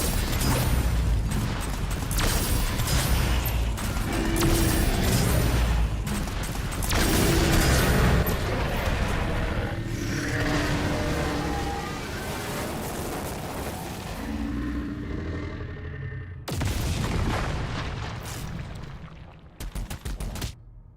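Dense video-game combat with constant gunfire and booming explosions, loud and continuous with no letup, from a game featuring demonic turrets and auto cannon fire.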